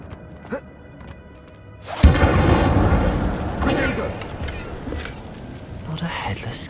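In the video game Hogwarts Legacy, an Incendio fire spell bursts with a sudden loud whoosh and thump, then a sustained roaring crackle of flames that slowly fades.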